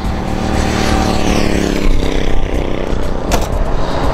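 A 1993 Jeep Cherokee Sport with a four-liter engine cruises on the Meadowbrook Parkway, giving a loud, steady wash of tire, wind and engine noise inside the cabin, with a brief whoosh of passing traffic.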